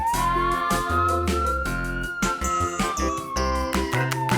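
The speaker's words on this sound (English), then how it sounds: "Fire engine." A cartoon fire engine siren gives a slow, single rising-and-falling wail over a loud, busy children's song with drums and bright chimes, with the siren staying prominent throughout.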